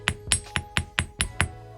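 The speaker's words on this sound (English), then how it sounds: "I'm going to go ahead and hammer my hoop, hardening the wire and texturing it." Seven sharp metallic ball peen hammer strikes on a copper wire hoop, evenly spaced and quick, close up, each with a brief ringing tail.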